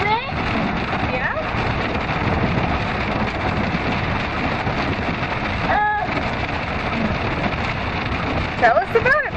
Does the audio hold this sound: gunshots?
no